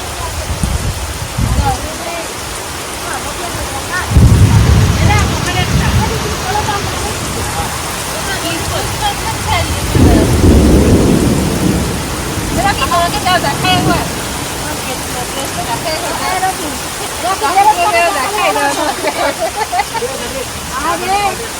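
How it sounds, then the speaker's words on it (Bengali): Heavy rain pours steadily in a thunderstorm with lightning, with deep rumbling swells now and then, while people talk over the downpour. "বিদ্যুৎ চমকানো শুরু হয়ে গেছে, আর ঘোরা যাবে না বৃষ্টির মধ্যে বাইরে"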